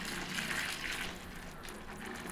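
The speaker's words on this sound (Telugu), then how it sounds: "ఇలా హాట్ వాటర్ని వేసుకున్నట్టయితే మనకి బిర్యానీ బాగా పొడి పొడిగా వస్తుంది" Hot water poured onto rice in a pot for onion veg biryani, a steady close gushing splash that fills the whole stretch with no voices.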